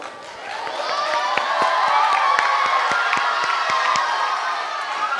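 A packed auditorium of school students cheers and claps for their friends, a dense, loud roar of voices with rapid sharp claps running steadily throughout.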